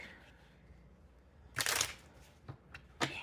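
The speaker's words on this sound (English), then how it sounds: "So let me do one more shuffle." A deck of cards is riffled in a quick crisp burst, followed by a couple of softer taps and a second short riffle, close and otherwise quiet.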